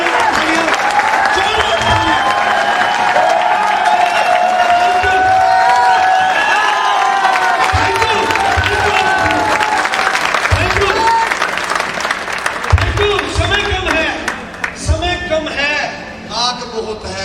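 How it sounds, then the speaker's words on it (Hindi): Loud, continuous applause and cheering from a large crowd at a business award event for a royalty achiever, with whoops, music and voices mixed in throughout, rising and thinning toward the end. "जोरदार तालियां"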